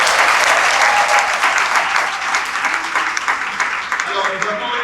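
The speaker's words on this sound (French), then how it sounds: "applaudissements" An audience at a French school broadcast on girls and science breaks into loud, sustained applause, dense clapping filling the whole stretch with a few voices mixed in.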